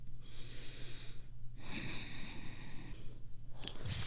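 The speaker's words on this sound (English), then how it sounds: "Breathe deeply." Slow, deep yoga breaths, a long airy inhale and exhale repeated close to the mic over a steady low hum, with a sharper sniff at the end.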